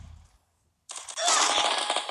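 Sniper rifle fire in a video game: after a brief near-silence, a sharp burst of loud gunfire erupts and carries on as a dense, sustained blast of shots and echoes.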